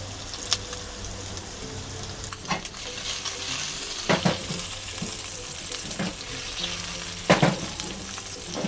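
Steady sizzling of eggs frying in a non-stick wok, with occasional soft scrapes and taps, no voices.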